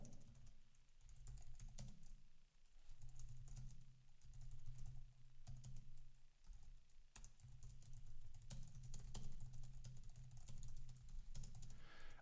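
Steady typing on a computer keyboard, a continuous patter of quick keystrokes with brief pauses, close and clear over a low background hum.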